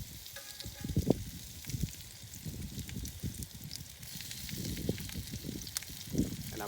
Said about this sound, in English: you hear that sear? That's what you're looking for.